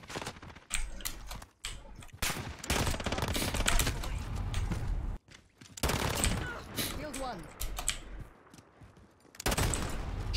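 Dense, rapid gunfire bursts from Call of Duty Modern Warfare gameplay, clattering in repeated volleys with short pauses between, loud and close throughout.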